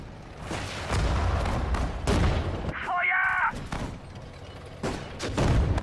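Gunfire from the real-time strategy video game Sudden Strike 4 rings out in repeated sharp bursts and thuds over a battle backdrop, with a short synthetic tone in the middle.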